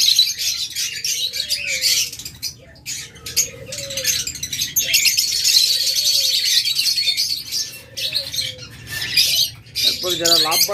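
A cage of lovebirds chirps and squawks continuously in a dense, bright chatter, with a person talking softly underneath.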